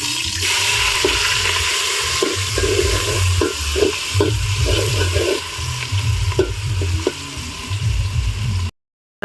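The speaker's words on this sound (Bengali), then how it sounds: "এরপর মাংসগুলোকে তেলে ভাজা হচ্ছে" Meat fries in hot oil in a wok for chili chicken, a steady loud sizzle with intermittent scraping and stirring clatter, then an abrupt cut to silence.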